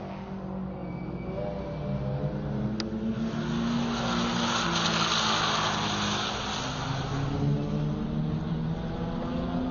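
A K-Series-powered race car laps a time attack circuit at Buttonwillow, its engine note rising and shifting through gears as it passes, loud and continuous with a brief tire squeal, no talk.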